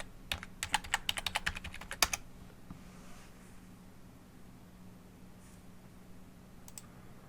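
Fast burst of keyboard typing as a password is entered on a computer, a rapid run of close, crisp key clicks for about two seconds, then near quiet with a faint hum and two stray clicks later.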